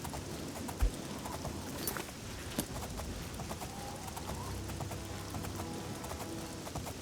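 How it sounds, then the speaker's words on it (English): In a video game, an orc's horse clip-clops at a steady trot, the hoofbeats soft and even under a busy outdoor ambience with faint birdsong. "the most radiant of orcs riding his horse"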